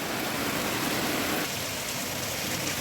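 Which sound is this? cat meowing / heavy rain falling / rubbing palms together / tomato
heavy rain falling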